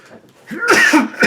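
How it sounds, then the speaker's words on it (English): A single sneeze, close and loud, bursting out after a brief sharp intake of breath, with no talk alongside. "oh, sneeze."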